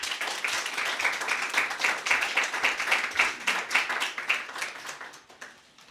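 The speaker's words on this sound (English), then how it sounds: "Everybody clap for Nick Setnik." An audience claps steadily for a poet at a live reading, a dense patter of many hands that holds for several seconds and then thins and fades near the end.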